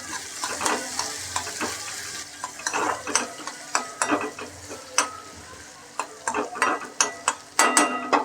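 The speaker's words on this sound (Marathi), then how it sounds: "याच्यात टाकतो मी आता कांदा कांदा मस्त की परतून घ्यायचा आहे ब्राऊन होतपर्यंत लाल होतपर्यंत" Onion sautéing in a pan with cumin and mustard seeds: a steady sizzle under repeated scraping strokes of a spatula, with the stirring clacks growing louder and more frequent toward the end.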